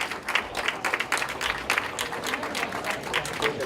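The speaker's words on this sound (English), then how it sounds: "let's give these ladies and gentlemen a round of applause" An audience claps steadily for a group's volunteers at a leadership fund event, a dense even patter of many hands with faint crowd murmur, moderately loud throughout.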